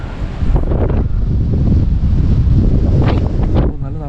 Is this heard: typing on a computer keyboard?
no